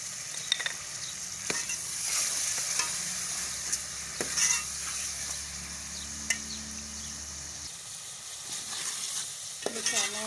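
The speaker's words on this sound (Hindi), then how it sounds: "मसाला अब हम भून रहे हैं," Masala of red chilli, salt and turmeric with a little water frying in a pan for a pea and pumpkin dish, a soft sizzle under close scraping and clinking stir strokes, with occasional sharper taps.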